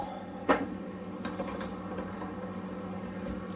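A 12 mm wrench turning the lock nut on a Pasak P40 mountain bike suspension fork gives one sharp metallic click, then softer ratcheting creaks and faint taps, close by and without speech.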